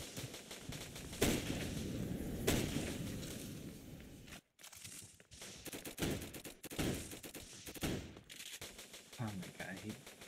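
Video game gunfire rattles in short bursts and single cracks, loud and close, with quieter stretches between volleys and people talking over the shots.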